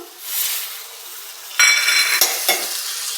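Carrot halwa cooking in a pan just after milk is poured in gives a soft, close sizzle, followed by a few scraping spoon strokes as the mixture is stirred.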